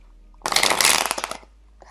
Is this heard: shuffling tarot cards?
yes